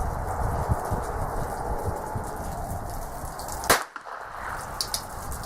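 A single sharp gunshot from a North American Arms Mini Mag revolver, loud and close, cutting through quiet outdoor rustling.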